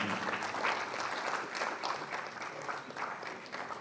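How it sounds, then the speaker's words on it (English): An audience applauds steadily, many hands clapping together in a sustained burst of even clapping. "With a round of applause, ladies and gentlemen"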